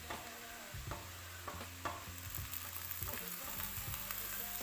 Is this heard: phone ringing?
no